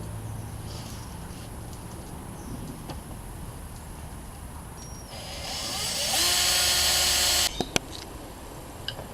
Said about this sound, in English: I'm gonna drill through that starter hole